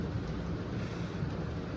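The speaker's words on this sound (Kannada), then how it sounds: "ಹಿಂಗೆ ಮಳೆ ಬರ್ತೈತೆ" Steady rain falls outside in a dense, even wash of sound with a low rumble underneath, constant and fairly close for a brief moment.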